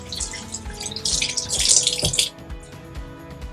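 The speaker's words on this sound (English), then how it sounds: "Rinse my hands off a little bit here." Water runs steadily from a kitchen tap as hands are rinsed during zoodle and meatball prep, a close, continuous splashing stream that stops abruptly near the end, with no talking.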